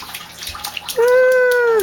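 A child splashing in a puddle of floodwater on a bathroom floor, a few quick wet slaps close by, then a voice lets out a drawn-out cry.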